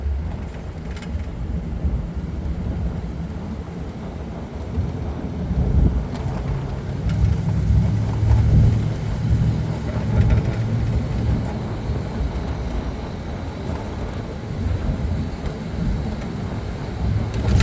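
Original exhaust of a 1962 Corvette with a Powerglide transmission, a steady low engine rumble while driving, heard with wind and road noise and no pauses.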